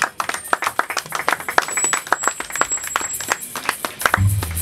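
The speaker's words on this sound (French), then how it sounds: "Acclamons très fort." A church wedding congregation claps vigorously in quick, uneven bursts, many hands together close by, with a low voice rising briefly at the end.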